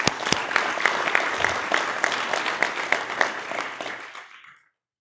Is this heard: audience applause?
yes